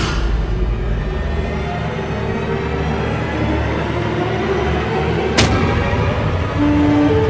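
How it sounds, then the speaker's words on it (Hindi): A deep, rumbling explosion effect swells and rolls on for several seconds, with a sharp crack partway through and a sustained low roar, loud and alone without speech. "ये विस्फोट"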